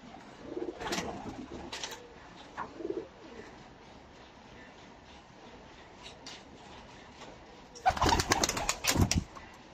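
Lakha pigeons at a pigeon show coo in soft, low bursts, with a louder flurry of wing flaps and calls near the end over a steady background murmur.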